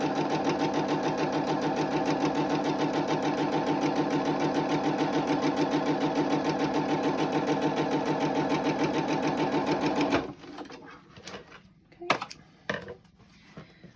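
Sewing machine running a seam on a fabric face mask, a loud, continuous, rapid mechanical chatter for about ten seconds that stops abruptly, followed by a few close clicks and thumps.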